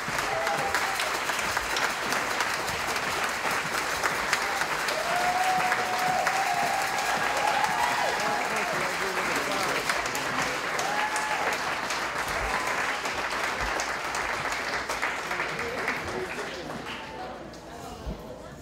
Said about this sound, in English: Big round of applause for these folks.